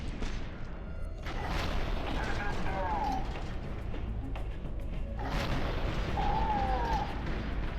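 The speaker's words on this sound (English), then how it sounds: "Hey, how about a rocket launcher?" Heavy booming blasts from a rocket launcher in the shooter game FEAR 2, two loud whooshing detonations several seconds apart over a constant rumbling game backdrop.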